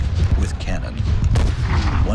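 Cannon artillery fire at Gettysburg in a Civil War video game, rumbling booms and crackling gunfire blended into a dense, continuous battle din.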